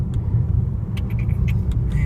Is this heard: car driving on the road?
yes